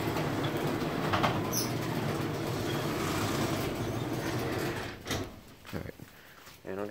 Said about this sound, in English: Springs make a good amount of noise.